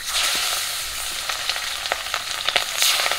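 Pabda fish marinated in spices sizzle in hot oil in a pan, a loud steady frying hiss with crackling pops and a few sharper spatters, no voices over it.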